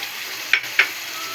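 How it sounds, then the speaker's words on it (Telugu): Chicken coated in masala sizzling in a pan as tomato goes in for gongura chicken, a close steady hiss of frying with two quick spoon scrapes partway through. "నెక్స్ట్ టమాటా అయితే యాడ్ చేసుకుంటున్నాము"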